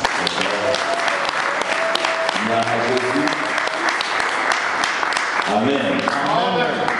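Church congregation applauding and cheering through the whole stretch, steady dense clapping with voices rising over it, a loud crowd up close.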